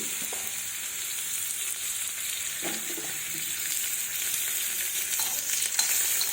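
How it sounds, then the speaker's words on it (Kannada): Steady, close sizzling of food frying in oil, a dense continuous hiss that carries on with no voices over it. "ಸ್ವಲ್ಪ ಎಣ್ಣೆನ ಹಾಕಿ ಫ್ರೈ ಮಾಡ್ತೀನಿ"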